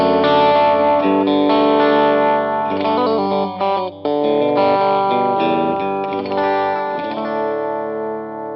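An electric guitar with a Lollar Novel T pickup blended with a Texas Special middle pickup plays a run of sustained notes and chords, bright and harmonically rich with a chorus-like shimmer and no talking.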